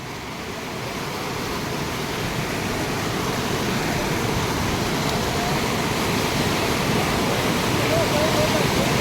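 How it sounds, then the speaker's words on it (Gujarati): Heavy monsoon rain pours down at a village dam in Gujarat as floodwater flows, making a loud, unbroken broadband roar that swells slightly and holds steady throughout. "અત્યારનો વરસાદ બહુ છે મિત્રો"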